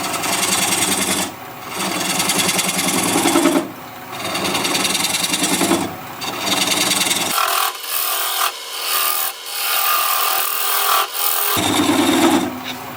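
Bowl gouge cutting apricot wood spinning on a wood lathe, a continuous rough scraping hiss broken by brief pauses as the tool lifts off and reengages, close and loud.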